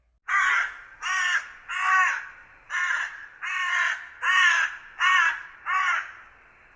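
A crow in an animated story gives eight loud, harsh caws in a steady, evenly spaced series against a quiet background.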